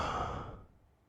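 A voice imitates a creature breathing heavily: a single close, breathy exhale that fades over about a second.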